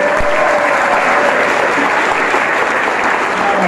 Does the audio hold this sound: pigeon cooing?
no